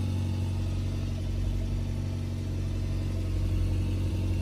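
A 2009 Toyota Tundra SR5 with 215,000 miles and a check engine light runs rough, its engine idling with a close, steady, uneven rumble and no talking.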